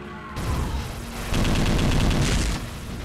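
Rapid gunfire from weapons in the video game Brutal Heretic, a dense, loud burst of repeated shots that swells partway through and then cuts off.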